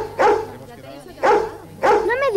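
A dog barks three times in evenly spaced, sharp, close barks with short pauses between them.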